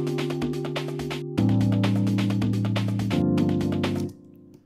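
Two music parts play together in a DAW, a 130 BPM imported audio file over a 120 BPM digital piano, so the layered tones drift out of time. The playback is steady and sustained with no talk, then stops abruptly near the end.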